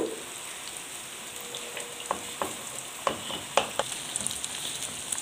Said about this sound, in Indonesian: Lalu kita masukkan 3 butir telur.